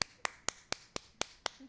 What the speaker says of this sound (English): Late clap.